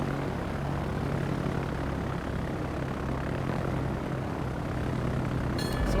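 Carrier-launched Hornet planes in a naval video game, their aircraft engines a steady, loud droning rumble that fills the whole stretch without letting up, with no talk over it.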